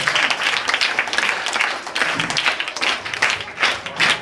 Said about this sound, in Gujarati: તાળીઓ ચાલુ રહેવી જોઈએ.